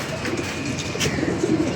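A pigeon coos softly and repeatedly, a low rolling call set against a steady background hiss, with no one talking.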